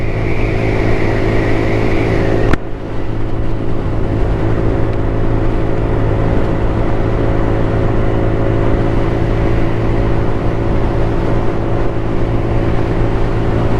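A GY6 150cc scooter engine fitted with a new exhaust runs at full throttle, a loud, steady droning hum with a brief shift early on, sustained close-up without pause.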